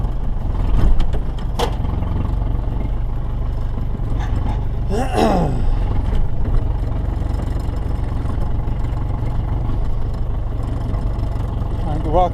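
A Ford Transit van with no brakes drives over something, its engine rumbling steadily and loudly with a brief scraping, groaning sweep partway through.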